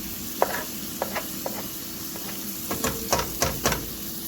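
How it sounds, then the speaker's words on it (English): Onion sautés in a pan under a steady sizzle, with several short scraping clicks from stirring that grow more frequent toward the end. "And the onion sauteing over here."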